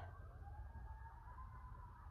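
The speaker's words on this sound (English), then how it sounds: "there's police sirens, ambulance, fire trucks." Faint, distant police siren wailing in a long steady tone under rumbling thunder and rain.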